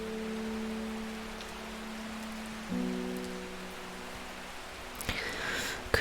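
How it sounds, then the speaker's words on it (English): Steady rain falling in the Strange Horticulture video game, a soft continuous hiss heard from indoors, with low sustained musical tones underneath and a few faint clicks near the end. "The sound of rain is so relaxing."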